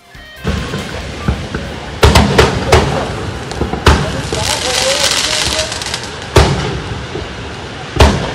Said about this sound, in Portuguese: em que os fogos de artifício explodem por ali e fica essa fumaça, uma fumaça cinza